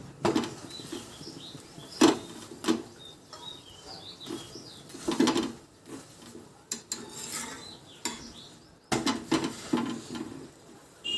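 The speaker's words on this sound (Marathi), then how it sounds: "त्याला आता आपण तेल लावून घ्यायचं. जशी आपण चपाती भाजतो, पोळी भाजतो तसंच भाजायचं." An aloo paratha roasting with oil on a griddle, soft frying sizzle punctuated by repeated scraping and tapping of a spatula against the pan, close and fairly quiet.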